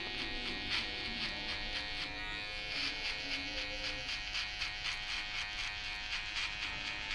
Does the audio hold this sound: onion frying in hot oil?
no